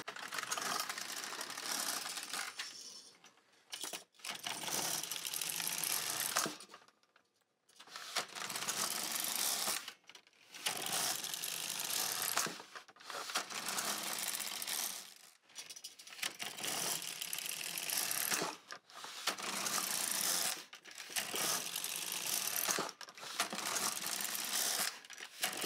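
An LK150 knitting machine carriage sliding back and forth across the needle bed while knitting tuck stitch plating with two colours of yarn, giving repeated rasping, ratcheting passes of about two seconds each, split by short pauses, close and fairly loud.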